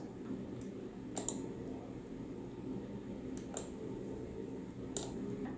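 Computer keyboard keys pressed while working in AutoCAD: three sharp, isolated clicks roughly two seconds apart, each a quick double tap, over a quiet room hum.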